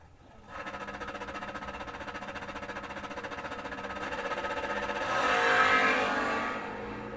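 A 1967 Camaro drag car and its opponent launch down the strip, engines droning at a steady high roar that swells louder toward the end, heard from a distance with no talk.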